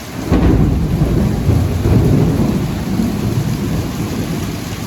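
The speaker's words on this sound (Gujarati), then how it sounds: "આવા જ કડાકાના ભડાકા થાય છે" Loud thunder rumbles and crashes over heavy rain, the deep roll swelling early and lingering through the steady downpour.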